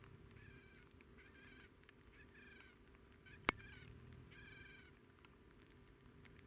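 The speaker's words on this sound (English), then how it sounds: "Oh, I hear a bird." Bird calling near an airport at dusk, faint repeated warbling bursts over a quiet hum, with a single sharp click midway.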